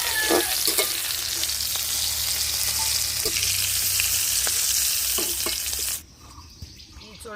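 Prawns fry in a pan with a loud, close, continuous sizzle and occasional crackles, then the sound drops off sharply near the end as the heat fades.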